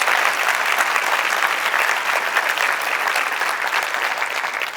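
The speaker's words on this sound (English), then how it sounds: "Can you please give everyone a great round of applause?" A school leadership conference crowd gives a loud, sustained round of applause, thick and continuous clapping from many hands with no pause throughout.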